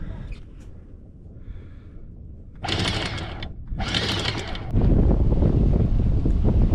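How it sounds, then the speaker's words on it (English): A sailboat's engine motors forward in light winds, a steady close mechanical chugging hum broken by loud bursts of wind buffeting the microphone. "Motor forward a little bit, Phoebe."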